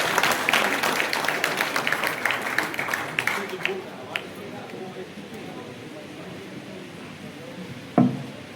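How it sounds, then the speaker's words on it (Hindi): A seminar audience at a valedictory session applauds a chief guest: dense clapping that fades over several seconds and trails off into sparse claps, with a faint murmur of voices behind. "एक बार कस के ताली बजाकर इनका स्वागत करें"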